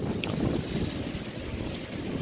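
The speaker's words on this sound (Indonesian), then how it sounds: "Anginnya sangat kencang dan ombaknya airnya naik" Strong wind roars steadily by the water at an Indonesian fishing spot, a continuous rough rush with wave wash beneath, close and fairly loud with no pauses.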